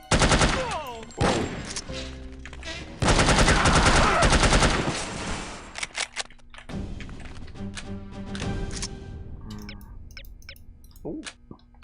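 Loud rapid gunfire from the shooter game No One Lives Forever, with sustained automatic bursts and separate shots, then quieter clicks and impacts, and a brief exclamation from a player.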